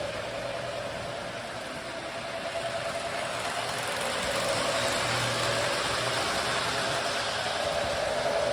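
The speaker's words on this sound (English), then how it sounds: "This Chesapeake and Ohio engine going around, it's engine number 202." A Chesapeake and Ohio model train engine, number 202 from 1961, runs steadily around its track with a continuous, even mechanical whir and hum that swells slightly partway through, with no voices.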